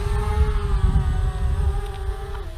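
A DJI Mavic Mini drone's motors throttling straight up, a loud steady high-pitched whine over rushing wind-like noise, close by and unbroken, dipping slightly at the very end.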